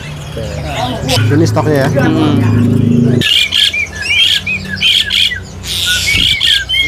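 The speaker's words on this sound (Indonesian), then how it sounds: "Ini suara kenarinya lumayan fasih ini." Canary singing close by in a busy setting, bursts of bright chirps and trilling warbles repeating throughout, partly under people talking and a low background hum.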